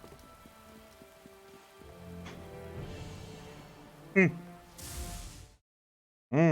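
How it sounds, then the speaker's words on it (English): Steady rain ambience from the video game Neverwinter Nights: Tyrants of the Moonsea, a soft continuous patter under faint game music. Brief sharp effect sounds cut in, then a short silence, then a loud burst at the end. "This place is just perpetually rainy."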